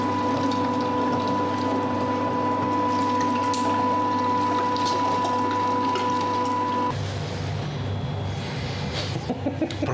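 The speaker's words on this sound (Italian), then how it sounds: "Vado a macinare, naturalmente basterà una volta sola e poi andremo a impastare." A meat grinder mincing sausage meat mixed with porcini mushrooms runs with a steady loud mechanical whir and grinding hum, its tone shifting partway through as the load changes, with a few clicks near the end.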